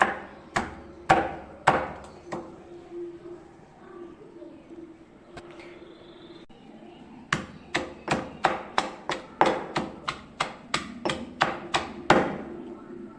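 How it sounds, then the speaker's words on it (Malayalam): Shallots and garlic pounded in a kitchen mortar: sharp, evenly spaced thuds in two bursts, a few strikes at first and then a long steady run of about a dozen blows, near and loud over quiet room noise. "കുറച്ച് കുഞ്ഞുള്ളി എടുത്തു മൂന്നാലല്ലി വെളുത്തുള്ളി എടുത്ത് ഇനി ഇതൊന്ന് ഇടിച്ച് കൊടുത്തിട്ട്"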